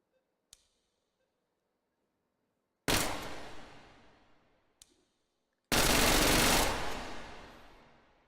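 Full-auto gunfire from a gun in the VR shooter H3VR: a faint single shot, then two loud sustained bursts of rapid automatic fire, each ending in a short decaying tail, with no talking.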